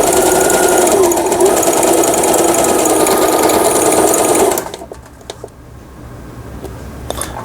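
Brother XR6060 sewing machine running an overlock stitch: a steady, loud mechanical whir for about four and a half seconds, then it stops and leaves a quiet room with a few faint clicks.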